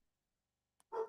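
A Basset Hound mix dog gives a single short bark after a brief click, heard faintly at a distance indoors with no talk.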